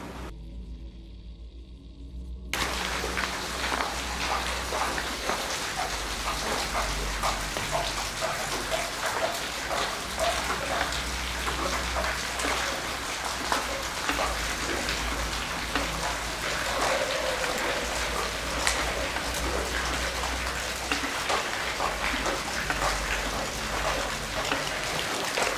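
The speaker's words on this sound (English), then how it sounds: "and it's raining." Rain falling steadily at an abandoned prison, a dense patter and hiss that starts after a brief quieter moment at the beginning and then continues evenly for the rest of the clip, with no talking.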